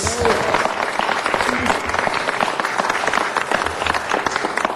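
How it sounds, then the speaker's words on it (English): Applause from a crowd at a city council meeting, a dense patter of many hands clapping steadily and fairly loud, with voices mixed in underneath. "Let's give him a big round of applause."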